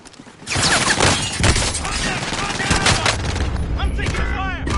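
Video game gunfire rattles in rapid bursts and fusillades, loud and close, while a player talks over the shooting in a trios match.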